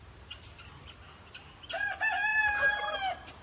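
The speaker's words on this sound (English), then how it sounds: "Oh my goodness, them roosters are sounding off." Roosters on a farm animal sanctuary, quiet background clucking followed by one loud, near cock-a-doodle-doo crow lasting over a second.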